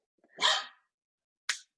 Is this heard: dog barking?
yes